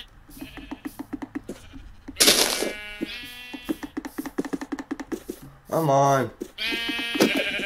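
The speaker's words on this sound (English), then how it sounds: "Let's kill one of these sheep." Sheep in the Minecraft video game give a few bleats between rapid clicking and game effects, while a player talks over them.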